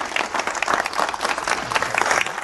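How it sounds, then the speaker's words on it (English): An audience at a veterans' digital transformation breakfast event gives a round of applause for two panelists, dense steady clapping filling the room at fairly loud level, with no speech over it. "Can we get a round of applause for both?"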